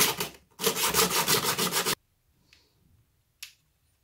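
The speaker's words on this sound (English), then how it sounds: "So you're going to need to sand them down, down to about" Close, rapid back-and-forth rubbing of brake pads from a Xiaomi M365 scooter's rear brake being sanded down, lasting about two seconds with a brief break, then quiet with a couple of faint light taps.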